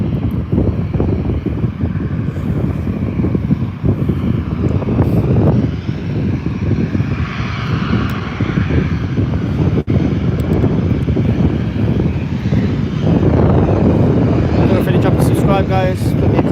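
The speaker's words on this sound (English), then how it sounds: "A formidable 737. All lit up for us." A TUI Boeing 737 jet roars at Birmingham airport, a loud continuous engine rumble with wind buffeting the microphone, while a voice talks over it throughout.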